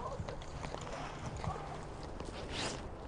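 Icelandic horses walking home through foggy highlands, hooves clopping faintly and steadily against a broad wind-like background hiss, with no clear voices.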